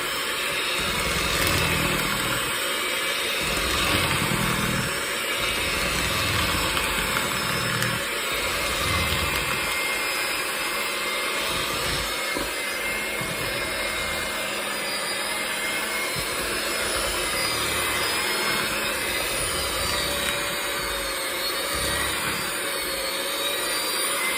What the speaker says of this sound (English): Now, we're going to take our mixer and just put it on low and mix it all together.